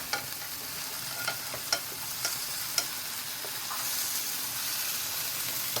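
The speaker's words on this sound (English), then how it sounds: "We'll have to brown them twice anyway." Meatballs brown in a pan with a steady, close sizzle and hiss, broken by a few light clicks of stirring, growing slightly louder and brighter toward the end.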